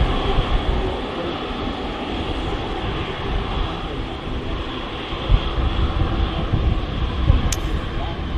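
Hainan Airlines jet departing Manchester Airport at high thrust, a steady broadband engine roar sustained throughout at moderate distance, with faint outdoor background noise.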